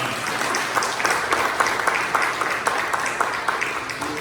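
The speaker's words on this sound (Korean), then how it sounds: "박수로 한번 축하하겠습니다." Church congregation clapping during a Sunday service to celebrate a member's birthday, a steady moderate round of applause from many hands filling the room, with a few louder claps popping out.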